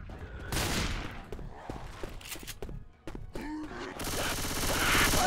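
Gunfire in the video game Left 4 Dead 2, played in two-player co-op on a mod server: scattered sharp shots crack out amid game noise, then a dense, loud burst of continuous fire swells near the end, with a voice briefly heard.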